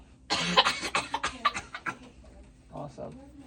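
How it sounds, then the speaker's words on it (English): A patient coughs several times in a clinical setting, a burst of sharp, close coughs followed by a few weaker ones after a pause. "then we're gonna cough right after"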